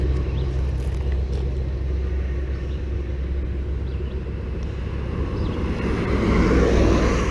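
A truck rumbles along a road beside a trail, a steady low engine and tire drone that swells louder toward the end as it draws nearer.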